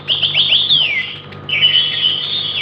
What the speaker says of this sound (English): now they are chirping